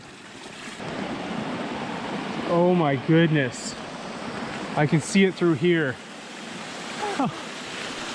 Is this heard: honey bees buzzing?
no